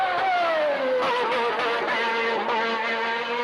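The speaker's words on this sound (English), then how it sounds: "So listen to Senna's throttle technique." Senna's race car engine blares loud and close while he taps the throttle through a corner, its pitch dipping and rising in quick pulses over a steady, high-revving whine.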